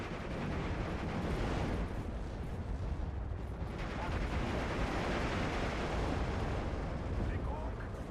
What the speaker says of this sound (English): And the Katyusha's firing